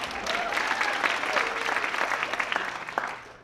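Students being honoured at a staff dance show draw a lively burst of clapping from the audience, with a few whistles and cheers rising above it throughout before it thins out at the end.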